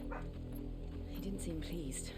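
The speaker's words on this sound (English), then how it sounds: "Sorry, that's the neighbour's dog" A neighbour's dog barks and yips in short bursts in the background, mixed under game dialogue and a steady music bed.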